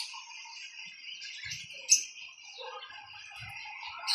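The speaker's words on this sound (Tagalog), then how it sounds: "Mag-asawang ibon. Parrot." A pair of pet parrots chirps and calls: thin, high, fairly faint tones with a few short louder squeaks, close by and with no talking.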